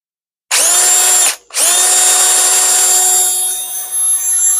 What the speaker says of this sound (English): try this on a drill to see how we're doing